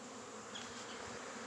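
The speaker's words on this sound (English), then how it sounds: "I'm over here at my Fairplay bee yard" Honey bees buzzing in a bee yard in Fairplay, Maryland, on a February day, a faint, steady, even drone of wings with no voices.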